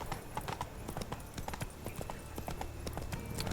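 Hooves of Roach, a horse in The Witcher 3, clop along at a quick steady gait, a close rhythmic run of hoofbeats over a low game ambience, with no one talking.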